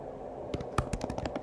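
Keystrokes on a computer keyboard, a quick run of light, close clicks typed in an irregular rhythm over a quiet room hum.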